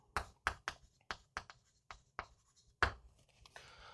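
Chalk or marker strokes on a lecture board, a string of crisp, sharp taps and short scratches in an irregular rhythm, close but quiet, ending with a brief faint hiss.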